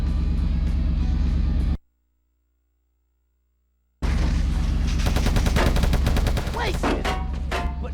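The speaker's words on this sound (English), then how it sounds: "Mason, you're probably itching to fire this gun." Video game gunfire in dense rapid bursts with rumbling booms, loud and close, broken by a sudden two-second silence before the shooting resumes.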